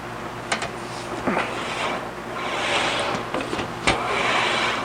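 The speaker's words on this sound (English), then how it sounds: "I'm going to wheel this on the edge a little bit, and I'm going to lift up on it" An English wheel rolls a metal bonnet panel for a Jaguar E-Type, giving a close, continuous rolling rumble that swells and eases with each pass, broken by a few sharp metallic clicks.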